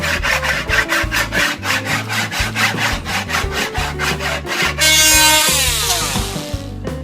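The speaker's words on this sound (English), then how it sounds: "So now I'm sanding this to get a little bit smoother edge on that." Steady rhythmic rasping of sandpaper working the edge of a wooden alcove shelf, repeated strokes close up, ending in a brighter, louder grinding stretch.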